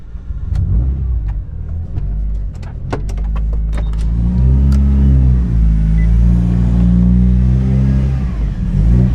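Mitsubishi Lancer Evolution IX with manual transmission, heard from inside as a few clicks and taps give way to the engine rising into a loud, sustained acceleration, steady and close, without talk.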